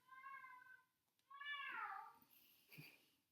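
A female cat calling out for a kitten she treats as her own, two drawn-out meows, the second louder and rising, near and clear with faint background noise.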